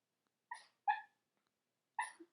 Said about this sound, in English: My dog's dreaming.